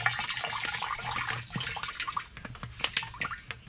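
Still Spirits Turbo Clear part A clearing agent is poured into a moonshine wash, giving a close, continuous splashing trickle with bubbling and dripping that turns more broken and gurgling toward the end.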